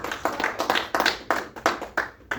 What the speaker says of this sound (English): Let's give Brother Ansar another round of applause,